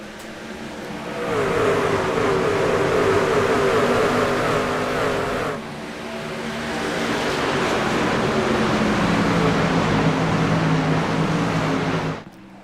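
Racing trucks in the iRacing sim at Darlington roar as the field takes the green flag, a loud sustained engine drone that swells and holds, dips briefly midway, then builds again before cutting off.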